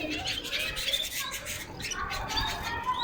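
Canaries in breeding cages fill the room with steady, overlapping chirps and short squawks, a busy, moderately loud chorus that runs without pause.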